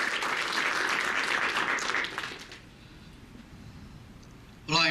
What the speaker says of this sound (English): I like to give a big round of applause to all the volunteers that make all the events successful.